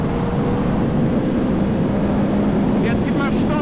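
Yamaha R1 motorcycle cruising at 150 km/h on the Autobahn, a steady, loud roar of engine and wind noise close up, unbroken throughout the short stretch.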